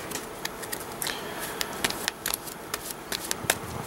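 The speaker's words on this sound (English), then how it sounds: "We need to draw our new cards, but it's time to shuffle." DC Comics deck-building game cards being shuffled by hand, a close series of quick riffling flicks and slaps in irregular bursts, fairly quiet, with no talk.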